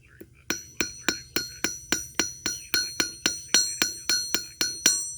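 Rapid, evenly spaced hammer blows ring out on a forged steel blade at a home-made forge, about a dozen sharp metallic clinks close up over a low background hum.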